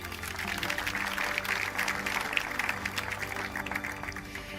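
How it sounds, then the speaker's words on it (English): An audience at the Zayed Award for Human Fraternity 2025 ceremony at the Founders Memorial in Abu Dhabi applauds steadily, a soft, even wash of clapping over a faint sustained musical tone. "Please join me in giving them another round of applause"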